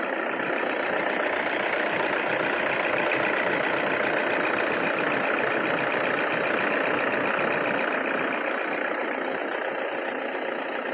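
A 2015 Toyota Innova 2.5 G diesel engine idling, a steady unbroken diesel rumble heard close up with no change in pace, no voices.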